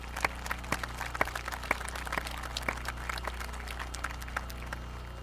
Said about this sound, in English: Can we give a round of applause to those recipients?